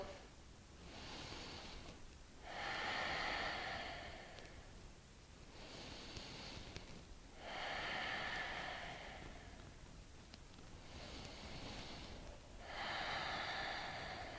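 Deep, slow breaths during a hatha yoga flow, heard close as three long broad inhale-exhale swells spaced a few seconds apart, with no talking.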